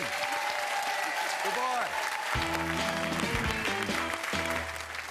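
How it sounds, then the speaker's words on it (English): A game show studio audience applauds departing contestants with steady, full clapping throughout, while a host and others talk and a musical sting plays underneath. "A round of applause for Rob and Sue."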